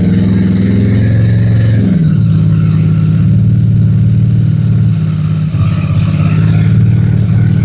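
A Honda NTV650 motorcycle engine runs steadily right after ignition, a loud, close, even idle with a slight dip in revs partway through, no talking.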